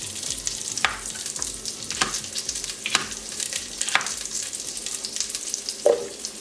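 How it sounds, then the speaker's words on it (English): Peppers frying in a pan while cooking carne en su jugo, a steady close sizzle with scattered pops and crackles throughout. "while my peppers are cooking"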